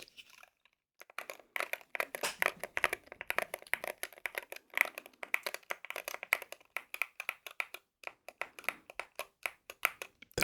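Dense, steady typing on a Wooting 60HE keyboard: close, crisp keystroke clicks in fast continuous runs, quiet and with no talking.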